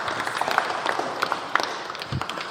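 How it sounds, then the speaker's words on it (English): An audience in a cathedral applauds with scattered, moderately loud claps that form a continuous patter, a few sharper individual claps standing out. "let's give another round of applause"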